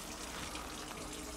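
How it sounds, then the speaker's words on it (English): Water pouring into a pot for preparing agar plates, a steady continuous gushing stream like a running tap, quiet and unbroken for the whole moment. "This pot's gonna take about a liter of water or so to fill it up"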